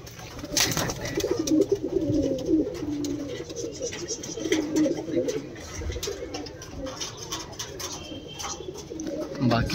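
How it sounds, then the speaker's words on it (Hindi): Pigeons coo softly in a low, rolling murmur, with faint rustling and occasional chirps around them. "बाकी वहाँ पे दो कबूतर बैठे हुए हैं,"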